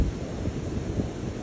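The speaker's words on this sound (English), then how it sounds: "it's probably super windy out here" Wind gusts buffet a mountain rock face, a steady low rumbling roar of close, loud wind noise with no voices.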